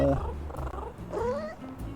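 Cat meowing and purring in the video game Little Kitty, Big City, a short mewing call with rising tones, fairly close and moderately loud, with game audio around it.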